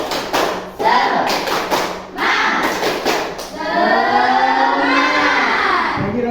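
A class in an Islamic elementary school performs a rhythmic spirit clap in sharp groups of quick claps, followed by the children's voices chanting together loudly.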